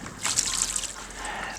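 Water poured from a bucket trickles and sheets off a ceramic-coated car's paint, a close, hissy splashing rush that fades as it runs away.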